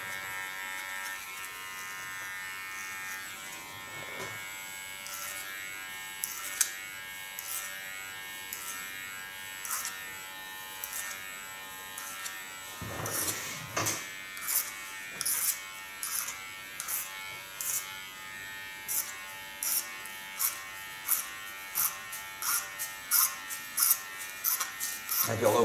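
An electric hair clipper buzzes steadily while working on a boy's hair, with repeated short cutting strokes in a regular rhythm toward the end, close by, and voices talking at times.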